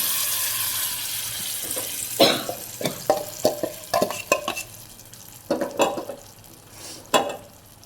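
Brinjal paste tossed into hot tempering for vankaya pachi pulusu, frying and stirred with a spoon: a soft sizzle under irregular scraping strokes that come and go in bursts, close by with no talk.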